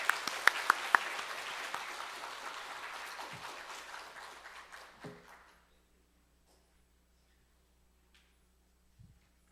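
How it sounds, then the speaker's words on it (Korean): Applause rises from a church congregation welcoming two singers to the front for a special hymn performance during a worship service, dense clapping for about five seconds before fading into quiet with a few faint knocks. "나오실 때 우리 큰 박수 부탁드리겠습니다"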